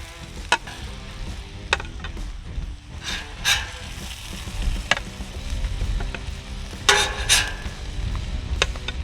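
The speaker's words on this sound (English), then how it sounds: "burgers are coming off the flat top" Bacon cheese smash burgers sizzle and fry steadily on a hot flat top griddle, loud and close, with sharp scraping clicks of a spatula scattered through.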